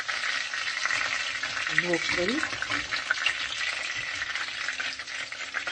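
Rolled minced-meat dough pieces fry in hot oil in a pan, a continuous close sizzle with brief crackles while someone speaks over it.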